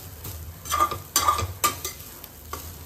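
Grated coconut being stirred in a cooking pan, with a few scraping strokes of a spoon over soft sizzling, close and moderately loud with no talking.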